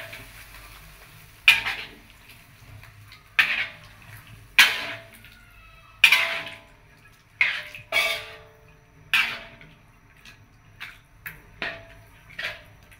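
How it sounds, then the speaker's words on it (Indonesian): A metal spoon stirs a pot after 600 ml of water has been added, giving sharp clinks against the pot about every second or so over a quiet, watery background. "Kita aduk lagi sampai merata."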